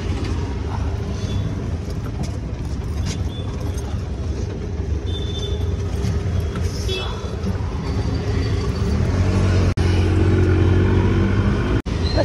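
An auto rickshaw crawls slowly through town traffic toward a station, its small engine rumbling steadily alongside passing vehicles, with people talking throughout and a couple of brief sharp knocks near the end.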